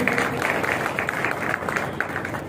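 Applause for a guest at a business meeting in a marriage hall, with steady, dense clapping from a moderately sized crowd, continuous and fairly close throughout.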